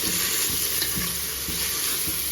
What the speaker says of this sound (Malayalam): നമുക്ക് ഇതൊക്കെ കൂടെ ഒന്ന് മിക്സ് ചെയ്യാം.